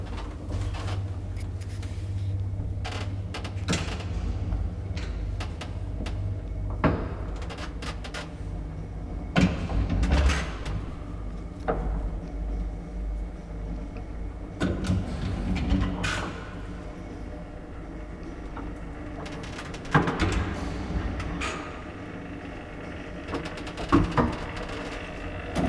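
A 1954 Kone traction elevator in a Helsinki building has its doors pulled shut, a series of sliding scrapes and solid knocks at close range across a long stretch, with quiet room noise between them.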